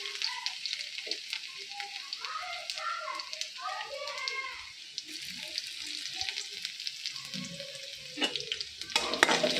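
Cumin seeds and plenty of garlic fry in a hot kadhai, giving a steady close sizzle with small crackles and occasional stirring scrapes throughout.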